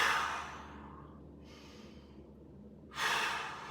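Two deep, breathy exhales, one at the start and another near the end, with a quieter inhale between them, taken during a mobility exercise; close and clear with no talking.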